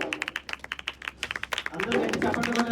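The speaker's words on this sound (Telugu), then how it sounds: "గట్టిగా చప్పట్లు కొడుతూ" A church congregation at a reinauguration in Rajahmundry claps in quick, steady rhythm, many hands together at close range, before a voice starts talking over the fading claps.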